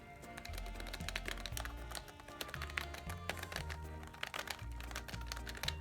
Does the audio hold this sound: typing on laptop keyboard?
yes